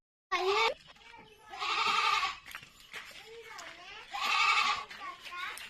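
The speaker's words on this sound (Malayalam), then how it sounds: "അപ്പോ ഇതാണ് നമ്മളെ ആട്" A goat bleats loudly and close up in three drawn-out, wavering cries separated by quieter pauses with softer animal sounds between.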